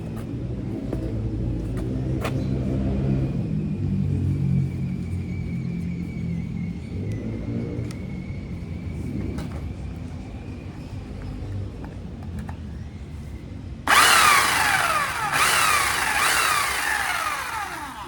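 An engine idles and revs in a low, rumbling drone, then a loud harsh buzzing chainsaw bursts in near the end, cutting noisily through driftwood.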